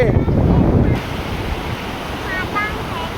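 Constant rushing wash of sea waves on a shore with green-coloured water, with wind buffeting the microphone throughout.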